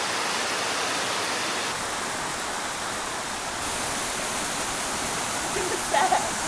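Rushing water of the Tumpak Sewu waterfall in East Java, a loud, steady roar filling the whole clip from close by while walking down through the falls.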